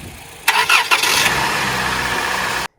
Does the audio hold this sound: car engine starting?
yes